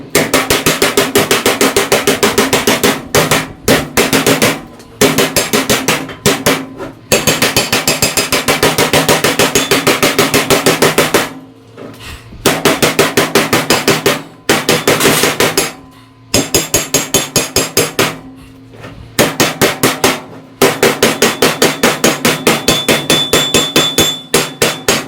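Steel sheet hammered over to a 90 degree bend, loud, rapid metallic blows in long bursts separated by short pauses.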